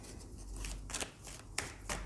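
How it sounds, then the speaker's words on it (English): A deck of cards shuffled by hand before a card reading, giving a few soft riffling bursts and sharper slaps close by, with no talking. "I'll shuffle the cards and then we will do the reading"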